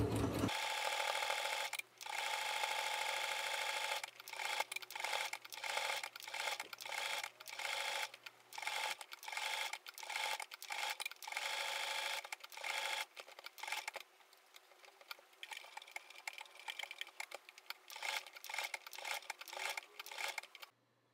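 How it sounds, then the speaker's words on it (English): A sewing machine runs a decorative blanket stitch around the edge of a flannel mitten, heard as a fast, close mechanical whirring in repeated short start-stop bursts with a rhythmic tapping, quiet and without talk. "I chose a decorative blanket stitch and sewed around the outside edge of the mitten"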